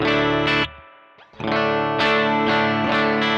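A distorted electric guitar, tuned to drop D, through a NUX Fireman distortion pedal into a clean amp channel with bright switch and spring reverb, plays heavy chords that ring out, cut to brief near-silence, then return with sustained, gritty power chords.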